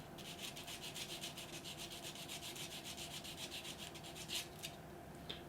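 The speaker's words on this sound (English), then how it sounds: "I think we're going to have to actually sand these just a little" Parts from a 1/35 scale MiniArt SU-85 plastic model tank kit being sanded, a steady rapid back-and-forth rasping rubbing close up that continues for several seconds with no talking.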